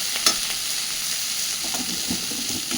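Mashed flat beans with coriander leaves sizzle steadily in a hot pan while a spatula scrapes and stirs through them in soft, irregular strokes, close and continuous with no talking.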